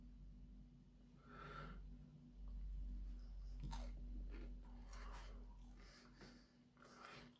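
Crunchy crouton bitten on top of an Aldi Caesar garlicky chicken pasta bake, giving a few close crisp crunches and chewing sounds over a steady low hum.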